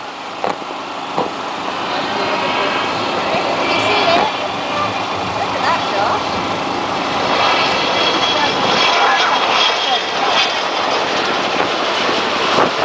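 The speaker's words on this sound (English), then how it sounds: "Great sight and sound of the Chinook as it goes past." A Chinook twin-rotor helicopter's heavy rotor roar and engine whine swell steadily as it passes nearby at an RAF Benson families day, loud and continuous throughout.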